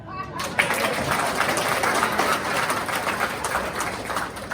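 A comedy club crowd claps and cheers in a dense, continuous burst of applause that holds steady throughout.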